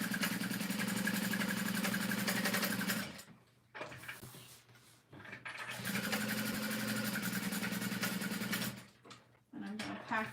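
A sewing machine top stitches a tote bag in two long, close runs of rapid, steady stitching, broken by a brief pause and ending with short bursts.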